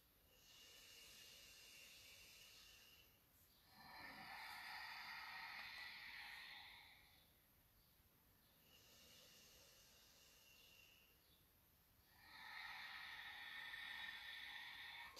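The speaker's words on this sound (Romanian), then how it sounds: "Și o să mai avem 3 respirații." Slow, deep yoga breaths, soft and close, alternating long inhales and exhales in a calm steady cycle, with no talking in between.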